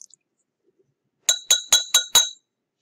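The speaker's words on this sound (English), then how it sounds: "I'm starting to stir exactly at 5 seconds, the way I did it before" Sodium sulfite solution is stirred in glassware for an iodine clock reaction, giving five bright, evenly spaced glass clinks close up in quick succession, in otherwise near silence.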